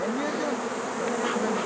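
Honey bees hum inside a half-empty beehive during a drought, making a dense, continuous buzzing drone that stays fairly loud and even from start to finish.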